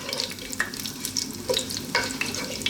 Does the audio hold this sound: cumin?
yes